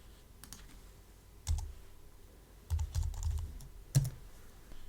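Keys clack on a computer keyboard during a coding tutorial in short, irregular bursts of close, crisp clicks separated by quiet pauses.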